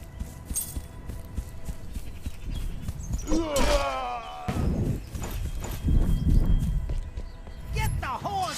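Hooves clop in the video game Achilles: Legends Untold under frequent talking and shouting, with a thud and brief animal-like cries among the noise.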